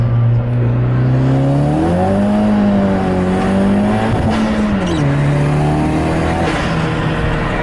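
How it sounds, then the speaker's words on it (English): A loud turbocharged Honda Civic Si with a GReddy Supreme SP exhaust and catless downpipe revs hard up close, its roaring exhaust pitch climbing and dipping through gear changes as it accelerates. "And my turbo is loud"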